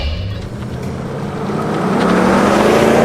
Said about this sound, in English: Fastest way to launch the Corvette is just drive and floor it when our videographer gives us the go.